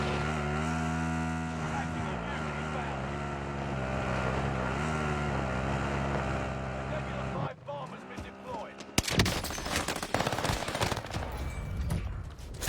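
Gunfire in a first-person shooter video game, a dense tonal stretch of game sound giving way to a burst of sharp, rapid shots and impacts that stay loud through the end, with no talk over it.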